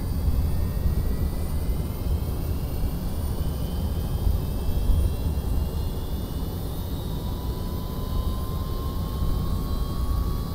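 An Avro Vulcan jet engine in the Just Flight simulator spools up during start with the crew hatch open. A loud, broad roar holds steady while thin whining tones slowly rise in pitch.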